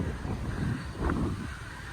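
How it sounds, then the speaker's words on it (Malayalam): Strong wind gusting beside the river near Big Ben in London, a steady broadband rush of buffeting noise against the microphone with a louder surge partway through, no clear voices. "അത്യാവശ്യം നല്ല കാറ്റും കാര്യങ്ങളൊക്കെ ഉണ്ട്."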